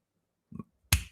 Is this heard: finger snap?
yes